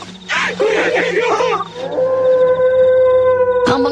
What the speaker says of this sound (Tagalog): Ang mga sigaw ni Aurora ay naging angil hanggang sa naging alulong yun.